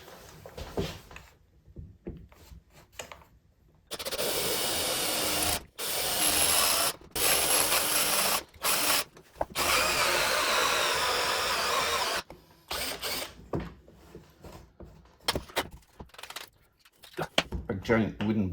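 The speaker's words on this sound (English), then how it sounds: "Get one of these nice big hole cutters." Large hole saw drilling through wood to cut a big wooden washer, whirring loudly in several long bursts with short pauses between, quieter workshop handling before and after.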